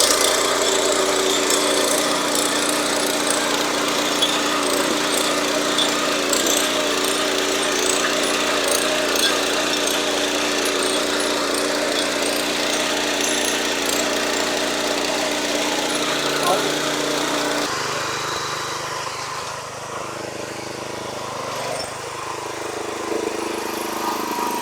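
A Kirloskar 7hp petrol power weeder runs in fast gear on a farm, its small engine buzzing loudly and continuously with a rattling pulse, easing off near the end while someone talks over it.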